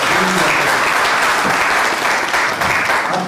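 Steady, dense applause fills a civil wedding ceremony at the town hall, a full room of guests clapping continuously at close range with no talk over it.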